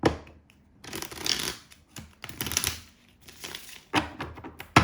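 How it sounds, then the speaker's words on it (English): Several bursts of tarot cards being shuffled close by, each a quick papery riffle separated by short pauses. "I need to shuffle these."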